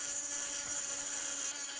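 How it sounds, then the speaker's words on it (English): An angle grinder cutting into metal link ends, a continuous high-pitched whine held steady and close for a short stretch with no pauses. "used the angle grinder to grind them off"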